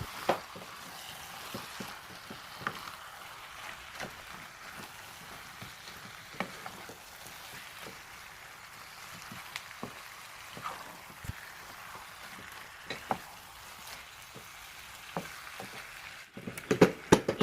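Spiced chicken for a kaima biriyani fries in a pan with a low, even sizzle, punctuated by sporadic light taps and scrapes from stirring that grow busier toward the end.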